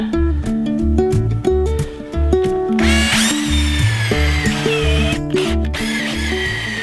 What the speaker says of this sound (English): Something tells me I need to get a better countersink bit.